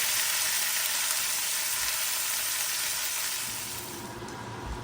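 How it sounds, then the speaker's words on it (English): Golden-brown chicken pieces sizzle and crackle in a frying pan, a dense, steady hiss that fades slightly toward the end, with no voices over it. "All right, we're gonna flip those over in the pan."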